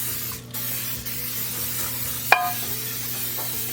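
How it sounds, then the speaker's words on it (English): Cooking spray hisses onto a baking pan in a short burst, followed by a brief clatter and quiet kitchen background, alone without talk. "Now we grease our pan."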